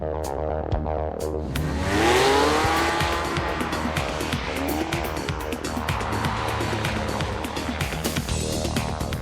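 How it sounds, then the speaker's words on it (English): A brand-new 2007 Porsche sports car drives hard on a track, engine revving up through the gears with tires squealing, loud and close throughout. "We've been invited here to drive all the brand new '07 Porsche sports cars."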